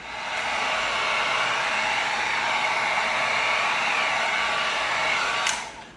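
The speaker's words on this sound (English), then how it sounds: "now we barely dusted it with the hot air" A hot air tool blows a steady, loud whooshing rush of air to seal EVA foam, running evenly for several seconds before cutting off near the end.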